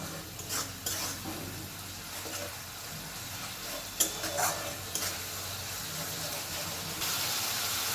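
Fish-head masala is stirred in a pan over a high gas flame, giving a soft hissing sizzle with intermittent scraping strokes and a few louder clatters, fairly quiet throughout.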